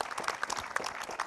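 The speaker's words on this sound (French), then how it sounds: "On peut les applaudir." Studio audience applauding guests at the close of a French TV debate show, a brief, fairly faint patter of clapping.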